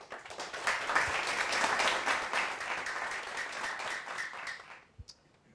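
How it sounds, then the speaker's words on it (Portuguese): Faint, dense applause from a live roast-show audience for Newton rolls steadily for about five seconds, then breaks off into a few scattered last claps. "mais aplausos para o Newton, por favor"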